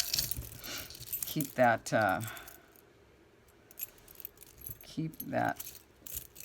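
A bunch of keys jangles and clinks in short bursts as it is handled close by, with a person talking in between.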